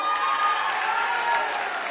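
Audience at a business meeting applauding and cheering for seniors from Kanker, a steady wash of clapping from a crowd, moderately loud and unbroken.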